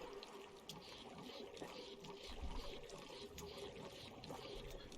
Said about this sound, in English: the pump's taking water just enough